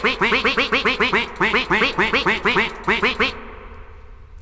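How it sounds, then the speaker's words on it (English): A duck quacks in a video game, a long run of loud, evenly paced quacks carrying heavy reverb, close and alone, ending with a brief echoing tail. "It's got some real reverb on that quack."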